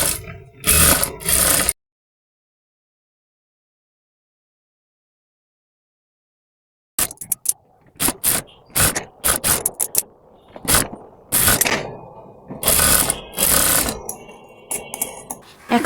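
Sewing machine stitching fabric for a baby girl's party dress, running in short bursts and stops after a long silent gap, with close, loud mechanical whirring.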